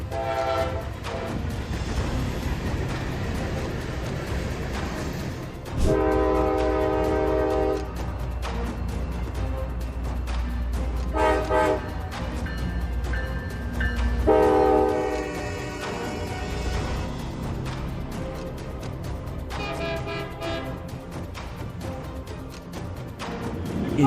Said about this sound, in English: The engineer honked loudly and did everything possible